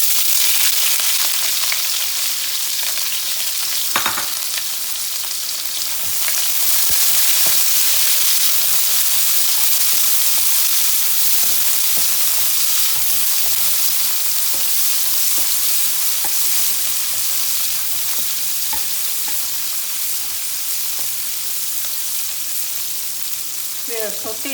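Onions sautéing in a frying pan with fenugreek seeds, a loud continuous sizzle with occasional scrapes and stirs running steadily throughout, close up.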